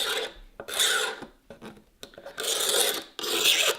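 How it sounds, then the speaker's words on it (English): A knife blade scrapes material during a Ford Bronco build. Close, harsh rasping comes in repeated strokes of about half a second each, separated by short gaps, with no talking. "you can use a knife for scraping"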